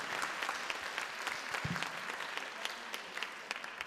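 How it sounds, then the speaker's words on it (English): Dense, steady audience applause fills a conference hall after a presentation on cruise terminal development at the 2014 Asia Cruise Forum, with many hands clapping continuously at moderate level for several seconds. "Our applause."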